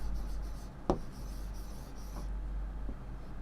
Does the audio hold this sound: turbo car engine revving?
no